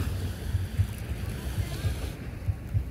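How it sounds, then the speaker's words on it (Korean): Low, steady wash of ocean surf with rolling swells at a beach in Busan, South Korea, at sunset, mixed with wind rumbling against the microphone; no one speaks. "바다 소리 들리세요?"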